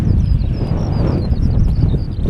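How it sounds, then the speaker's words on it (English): Strong wind on a hilltop in the Lake District fells buffets the microphone with a constant low roar, loud and unbroken throughout, no voices. "So windy up here again, but still warm."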